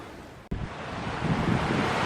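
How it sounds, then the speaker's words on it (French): Strong wind rushes through a high mountain pass beside an alpine lake in the Arsine area near Le Monêtier, a loud, steady roar like a waterfall that starts abruptly after a short dip and builds slightly. "C'est le vent qui s'engouffre."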